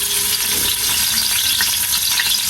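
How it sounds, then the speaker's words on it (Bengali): Fish fries in a pan, giving a loud, dense, continuous sizzle that holds steady from start to finish, close up, with no talking. "এখন মাছটা ভাজি করে নিই"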